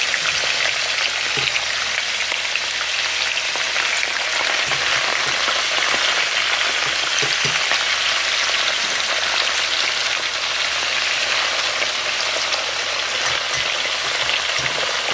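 Mackerel frying in hot oil, giving a steady, dense sizzle with crackling pops that carries on evenly and loudly throughout, with no talking.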